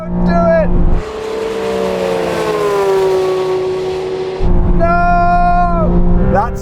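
A Porsche 911 GT3 RS and an AMG GT R racing, one engine revving high and holding a strained, wavering note against the rev limiter between bursts of excited talk.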